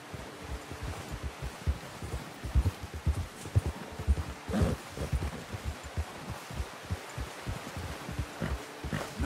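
Horse hooves in Red Dead Redemption 2 clip-clop at a steady walking rhythm while a hunting party heads back, quiet and fairly close, with no talk over them.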